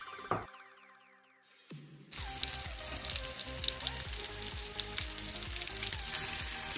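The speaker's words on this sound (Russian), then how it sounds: "В таком виде они отправляются для прожарки на сковороду." Breaded ham and cheese rolls drop into a hot frying pan and begin sizzling steadily, a loud continuous crackle of frying oil with small pops, close up and without talk.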